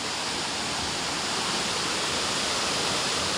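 Hinulogan Falls roars steadily, a dense, loud, unbroken rush of falling water close by with no other sounds over it.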